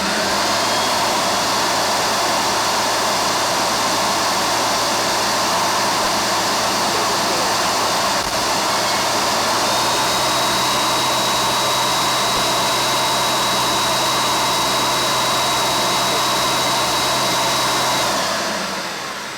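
A Hoover Concept One vacuum cleaner runs at low speed, a loud, steady whooshing motor roar with a faint high whine that holds unbroken for nearly twenty seconds before easing off at the end.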